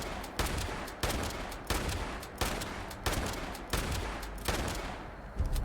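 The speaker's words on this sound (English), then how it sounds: "So you can shoot 8 shots" Bursts of gunfire from a weapon in the video game Fallout 76, fired in rapid, evenly spaced shots about every half second. Each report is loud and sharp with a short decay, and no one talks over it.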